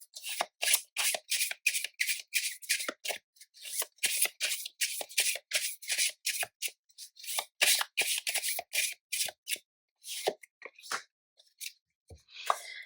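Tarot cards are shuffled by hand in a long run of crisp, rapid riffling bursts with short pauses between them, close and fairly loud, thinning into a few scattered slaps and taps at the end.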